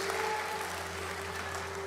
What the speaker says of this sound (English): If you guys could give a round of applause for all our moms.